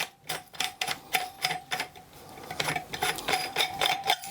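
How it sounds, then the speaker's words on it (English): The bottom nut comes off a Still Spirits T500 still with its botanical basket, making a quick run of sharp, rhythmic clicks and ticks that go on without stopping and sound close and fairly loud. "I'm taking out the nut from the T500, which is nicely in position here"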